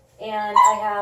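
A dog whimpers and whines in a high, tonal voice in a home kitchen during baking, a continuous antsy whine that rises briefly in the middle, heard under someone talking.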